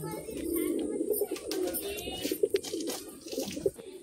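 A desi Giribaz pigeon coos and stirs close by, with soft rustling and brief flutters mixed with low cooing and faint background voices.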